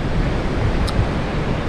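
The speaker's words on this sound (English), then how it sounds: "But I really love the sound of the ocean here." Ocean waves at PranBuri beach near Hua Hin, Thailand, a steady broad wash of surf mixed with wind rumble on the microphone, continuous and fairly loud with no talking.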